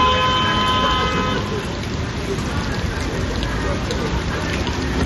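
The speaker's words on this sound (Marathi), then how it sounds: "नवी मुंबईत सकाळपासून मुसळधार पावसाची संततधार आपल्याला पाहायला मिळते" Heavy monsoon rain pours steadily onto a flooded street in Pawane, Navi Mumbai, a loud continuous hiss close by, with faint traffic and water noise beneath.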